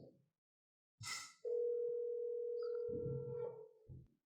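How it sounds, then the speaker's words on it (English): An outgoing phone call gives a steady electronic dial tone, a single continuous hum lasting about two seconds after a brief click, with faint murmured talk near the end. "All right, so we're giving Christian a call."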